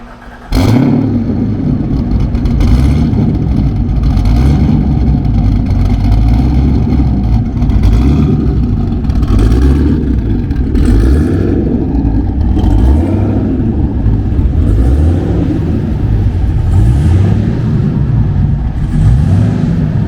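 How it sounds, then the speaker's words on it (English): A twin-turbo Chevrolet Corvette C7 rated at 1400 horsepower roars at a car show, starting abruptly and then holding a very loud, close, deep rumble with repeated revving surges and crackling bursts for about twenty seconds, with no talk over it. "That is Justin's twin turbo C7."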